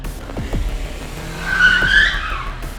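A car skids with a sharp, rising tire squeal in a near miss with a motorbike rider, heard loud and close over engine noise.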